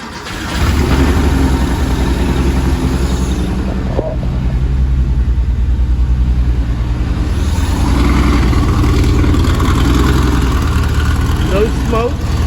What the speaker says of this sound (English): We're doing a cold start video.